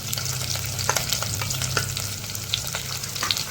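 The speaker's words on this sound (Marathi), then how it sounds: "गूळ टाकल्यावर आपण त्याला पुन्हा एकदा हलवून घेऊ चांगलं।" Spoon stirring a pan of fried sweet potato slices after jaggery is added, a steady sizzle over medium heat with scattered scraping clicks from the spoon, close and continuous with no voices.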